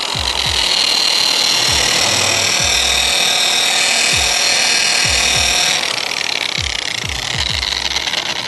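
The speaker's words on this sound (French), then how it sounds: "reprendre un tampon propre et venir enlever, bien sûr, l'excédent et polir pour donner une finition miroir." Stainless steel polished to a mirror finish with a clean pad: a loud, steady, hissing rub with a bright whine runs throughout, with soft low thumps scattered underneath.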